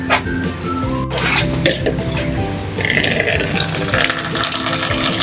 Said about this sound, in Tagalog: Tapos kuha na rin tayo ng tubig ni Molly.